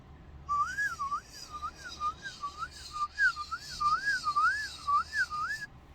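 Palate whistle holding a single tone with a steady, regular vibrato wobbling the pitch up and down, clear and close, sustained for several seconds with brief breaths between phrases.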